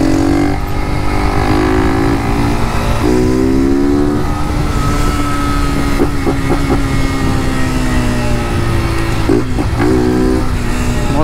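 A Honda Start 160 motorcycle fitted with a Torbal exhaust, riding close by with a loud, raspy engine note that rises and falls through repeated revs and gear changes, with no talk over it.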